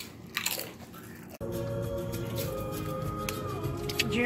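Jalapeno-flavored Fritos corn chips are crunched and chewed close to the microphone, with a few crisp bites giving way to steady munching beneath a continuous background hum.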